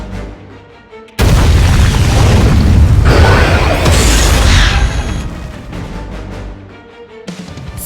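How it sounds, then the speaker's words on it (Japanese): A loud explosion erupts near a military harbor dock in the video game Code Geass Lost Stories, a sudden heavy boom followed by several seconds of roaring, crackling blast rumble that slowly fades. "今の爆発音は"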